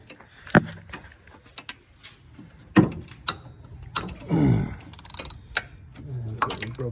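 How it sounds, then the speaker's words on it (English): A wrench works loose the power steering pump bolts on a 2006 Honda Odyssey, giving close, scattered sharp clicks and knocks with a brief grinding creak midway, separated by quiet gaps. "I want to at least get these two main bolts that are holding this on broken loose"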